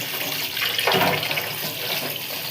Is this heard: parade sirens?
no